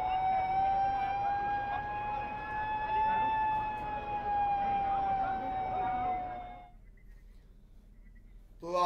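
A loud, sustained emergency siren blares at a fire at an electricity department office in Raipur, holding for several seconds before cutting off into near quiet.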